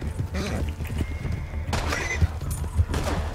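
Hooves gallop in Red Dead Redemption 2, a quick, rhythmic clatter running all the way through, with a horse whinny, an excited voice and game noise over it.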